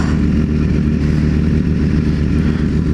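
Sport motorcycles, a Yamaha R6 and a BMW S1000RR, accelerate with a loud, continuous engine roar full of low throbbing, heard close and steady for the whole stretch.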